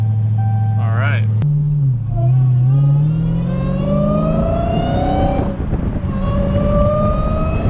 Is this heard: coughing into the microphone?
no